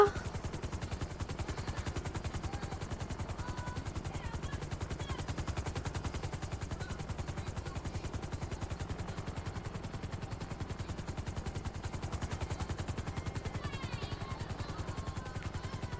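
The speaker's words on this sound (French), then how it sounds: "Il est grand l'hélicoptère." Large helicopter at a wedding, its rotor giving a fast, even thudding chop that runs loud and steady throughout with no talk over it.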